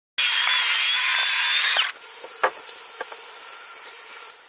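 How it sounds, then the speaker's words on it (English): Thick wooden beams being cut for a house by a Japanese carpenter with a power saw, a loud continuous high whine that shifts tone partway through, with a few knocks and clicks underneath. "He is bringing in 3 large, thick wooden beams and cutting them into 12-foot sections for the house construction."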